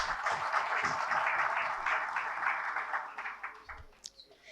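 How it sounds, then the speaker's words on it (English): Applause for school award winners at the Bolo English Excellence Awards 2024, a broad wash of clapping that holds steady for about three seconds, then thins into scattered claps and fades out. "Huge round of applause for all the school winners."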